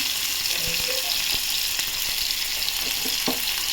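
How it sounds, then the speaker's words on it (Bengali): A medium-sized chopped onion fries in hot oil in a pan, giving an even, continuous sizzle at close range with a few soft clicks and stirring taps. No voices are present. "পেঁয়াজটা ভাজা করে নেব"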